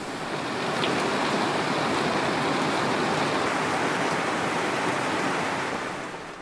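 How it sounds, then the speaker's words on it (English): Steady, loud rain pouring down during a gale-force storm aboard a sailboat, a dense, unbroken wash of noise that swells in, holds evenly and fades slightly at the end, with no voices. "As the rain poured down"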